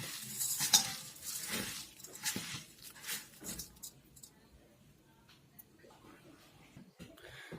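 Grated coconut worked together with sugar by hand, a soft irregular rustling and squishing with occasional light clinks of a bowl or utensil, close and fairly quiet, easing off toward the end.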